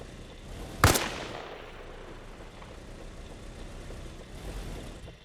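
An armor-piercing round strikes a vehicle in Arma Reforger with one sharp, loud impact crack, followed by a low engine-like rumble and distant ambient noise.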